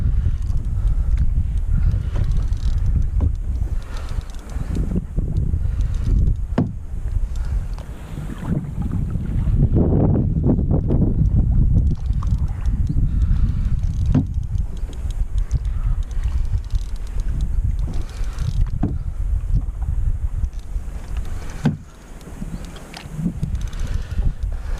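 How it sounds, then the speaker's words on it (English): Strong wind gusting across a carp-fishing lake in France while out in a boat, loud continuous buffeting rumble on the microphone with swelling and easing gusts, no talk heard. "The wind's pulling us back."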